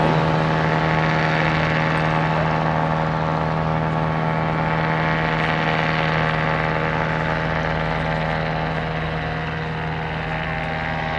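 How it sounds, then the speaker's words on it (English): An early Bristol aircraft flies at a summer evening air show, its engine giving a steady, loud propeller drone with a strong low hum. The sound holds constant throughout and nobody talks. "This was the first aircraft type to be produced by the British and Colonial Aeroplane Company"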